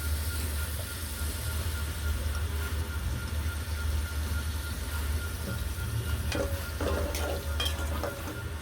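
Onion frying in oil in a kadai while making a beef liver bhuna, a steady continuous sizzle with a low rumble underneath and brief stirring clatters near the end, with no voices.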